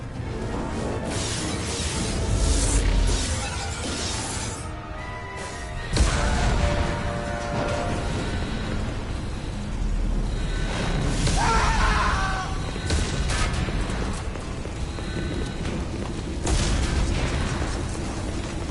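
A starship in Mass Effect 2 taking hits: repeated heavy explosions and booming crashes rumble through continuous noise, with several louder bursts spaced a few seconds apart and voices shouting over the chaos.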